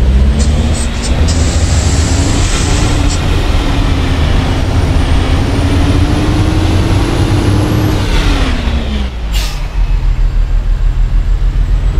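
A bus in Euro Truck Simulator 2 drives along with a loud, steady engine drone that slowly shifts pitch as it pulls over to park, ending with a sharp hiss of air brakes near the close.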